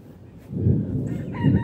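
A rooster crows nearby with a drawn-out call, while other chickens cluck and squawk in the background.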